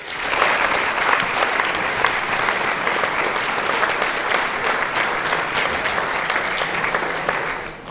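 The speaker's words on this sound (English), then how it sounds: "As the audience applauds, would you please join me on stage?" Audience applause at a 40th anniversary show: a loud, sustained crowd clapping continuously for about eight seconds and tapering off at the very end.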